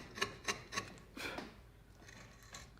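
A gouge cuts into a wooden carving in a few sharp, close scraping strokes, followed by softer rubbing and faint scratches.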